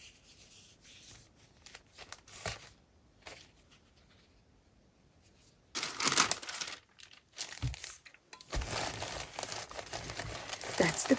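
Something is peeled off and folded in a craft-stick project, giving close crinkling and rustling that is soft at first, then grows louder and denser with scratchy tearing and creasing bursts.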